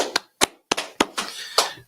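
Six separate hand claps, sharp and close, spaced irregularly across a short indoor moment at the start of an Israelite School gathering, with no talk over them.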